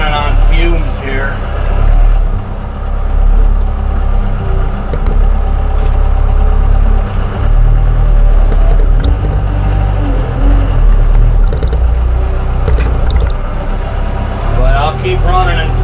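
A diesel engine idles nearby in a steady, continuous low rumble with a rough knocking undertone, running loud and unbroken throughout while outdoors work goes on around it.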